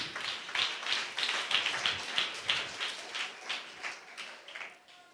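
A church audience claps with both hands in a brisk, rhythmic run of claps that is close and fairly soft and tapers off toward the end, with no talk.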